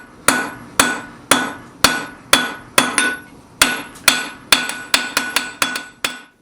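A blacksmith's hammer strikes a hot metal bar on an anvil in a steady series of about fifteen sharp, ringing blows, speeding up toward the end, with no talking.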